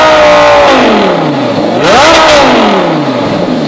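A Lamborghini with its stock exhaust revs hard, pitch sweeping down, then climbing in a sharp rev before settling again; loud and close.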